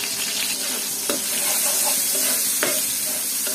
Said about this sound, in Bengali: এই যে পেঁয়াজ দিয়ে দিলাম, দিয়ে ভালোভাবে নাড়াচাড়া করে পেঁয়াজটা হালকা ব্রাউন কালার করতে হবে